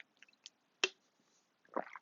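Water being drunk: faint scattered small wet sounds, one sharp gulp-like click, then a brief swallow or slurp near the end, close up and quiet, with no talking.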